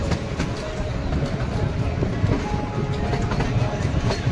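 A steady rumble of the Kalka–Shimla toy train rolling along a mountain railway, with faint rhythmic clacking of wheels, continuous and fairly close throughout.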